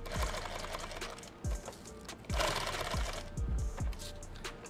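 A sewing machine stitches a strip of Velcro onto fabric, sounding as short close bursts of rapid needle clatter with brief pauses between runs.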